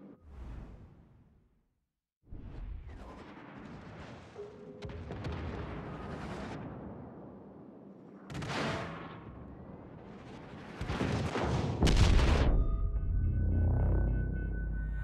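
Naval guns aboard the warship USS Anchorage fire at a target in a video game, with a series of heavy, booming blasts at irregular intervals that build in intensity over a low rumbling hum.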